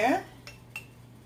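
A small skillet and metal utensils on a home stove while vegetables are sautéed, with a sizzle fading at the start, then two light, close clinks and nobody speaking.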